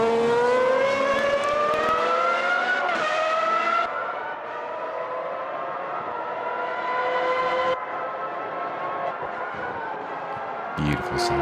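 A Formula V12 engine from a 1995 F1 season mod in the Automobilista 2 racing game screams at high revs around Imola, its pitch climbing through gears with brief shifts, loud and continuous.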